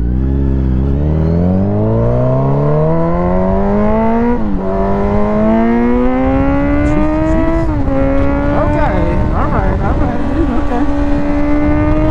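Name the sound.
motorcycle accelerating with throttle on a back road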